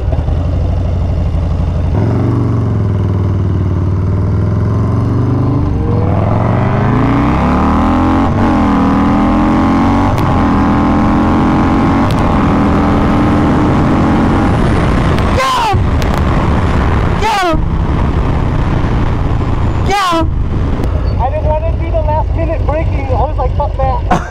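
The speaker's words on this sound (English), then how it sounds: "Let's see what this Harley does compared to a sport bike." A 150 whp Harley-Davidson motorcycle with bigger cams and pistons accelerating hard, loud engine revving up through several gears with rising pitch and abrupt breaks at the shifts, with voices talking over it.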